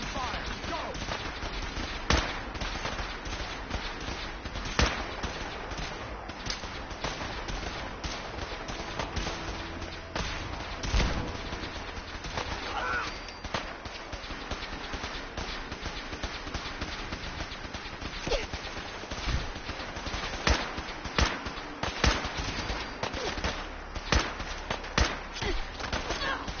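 Fallout 4 combat gunfire, scattered shots and bursts cracking through a long stretch of constant battle noise, steady and moderately loud, with occasional voices.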